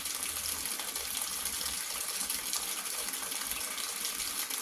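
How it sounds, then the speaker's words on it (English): A steady, hissing stream of hot water pours from a tap, constant and close, with no talking. "I'm running hot water."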